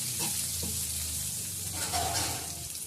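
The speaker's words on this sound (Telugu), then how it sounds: "ఎర్రగడ్డలు కలర్ వచ్చేంత వరకు వేసుకుందాం." Sliced onions and curry leaves frying in hot oil in a pan for capsicum chutney, a steady close sizzle with occasional stirring scrapes, no talking.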